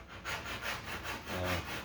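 A dual action sander works over a car body panel repaired with lacquer primer and 80 grit, giving a steady, fairly loud abrasive rushing with gentle pulsing strokes and a low hum surfacing near the end.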